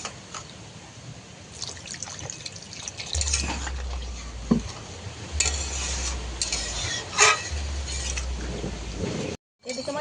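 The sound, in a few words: water being added to a simmering fish curry pot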